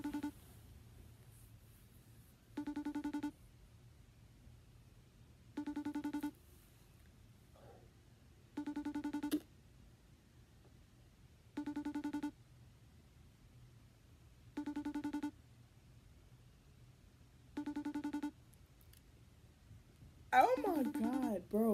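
A phone's outgoing ringback tone repeats eight times at steady intervals of about three seconds during an unanswered call, clear, near and evenly spaced over a low hum, with a voice speaking at the end.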